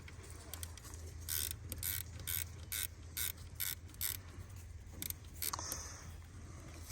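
A car alternator is handled and fitted by hand, with quick bursts of ratcheting clicks and metallic mechanical rattles coming in short, irregular clusters over a low hum.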